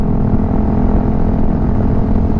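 A Honda CRF300L rally motorcycle riding at speed, a steady loud engine and exhaust drone blended with heavy, rushing wind noise, continuous and close with no change in pace.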